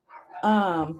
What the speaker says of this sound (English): The neighbor's dog just came out.